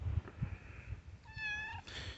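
A close cat gives a clear, rising meow in the middle, followed by a softer second call, over faint low handling noise.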